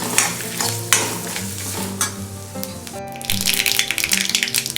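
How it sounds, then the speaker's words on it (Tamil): Grated coconut and spices for fish curry being stirred and sautéed in a pan, with scraping, rattling stir strokes and a rising sizzle toward the end, under soft background music. "இதெல்லாம் சேர்த்து நல்லா வதக்க ஆரம்பிச்சிடலாம்."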